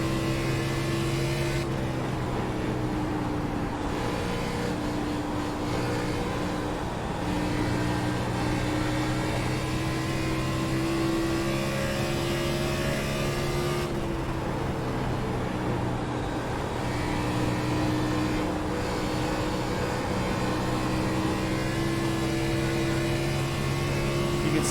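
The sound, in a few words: race car driving off a corner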